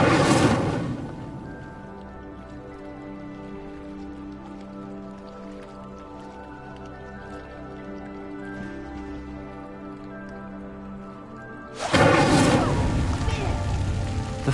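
An Incendio fire spell in Hogwarts Legacy lights a pyre with a sudden roaring whoosh of flame, then steady background music plays before a second loud burst of fire near the end.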